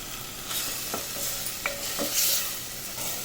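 Tomatoes being stirred and mashed in a frying pan for a guar and potato bhaji, with a steady sizzle under scattered scraping clicks of a spoon against the pan, close and moderately loud, no talk.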